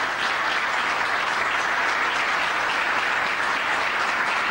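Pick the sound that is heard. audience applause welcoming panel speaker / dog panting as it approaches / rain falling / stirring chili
audience applause welcoming panel speaker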